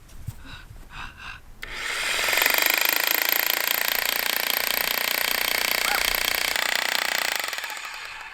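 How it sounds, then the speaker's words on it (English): A power drill bores into rock beside a waterfall, a loud, sustained grinding roar that starts abruptly after a few faint knocks and holds steady for several seconds before tapering off, heard close up. "Let's see if this drill works better than the other one."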